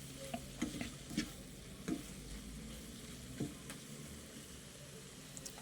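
Dried anchovies (dilis) frying in cooking oil, a quiet low sizzle broken by a handful of sharp clacks and scrapes of stirring, faint and close with no talking.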